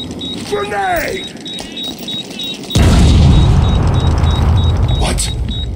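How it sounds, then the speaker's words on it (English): A grenade detonates in Batman: Arkham City, a sudden loud booming blast with a rumbling low tail that follows brief game voices and a steady beeping tone. "Grenade!"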